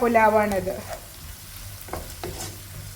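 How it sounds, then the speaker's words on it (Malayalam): Sliced onions with a pinch of salt stirred and frying in a pan, a close sizzle with a few scraping stirs after a brief voice at the start. "സവാള വേഗം വാടി കിട്ടാൻ വേണ്ടിയിട്ട് ഒരല്പം ഉപ്പിട്ടിട്ട് ഇളക്കി കൊടുക്കുക"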